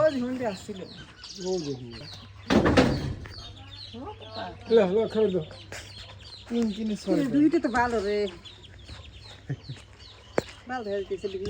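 Ducks and chickens cluck and call close by at a village home while people talk over them.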